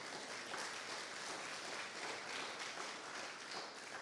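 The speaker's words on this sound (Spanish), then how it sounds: "Denle aplauso al Señor por eso." Church congregation applauding during a service, a continuous, fairly faint wash of many hands clapping heard from a distance, steady throughout with no speech.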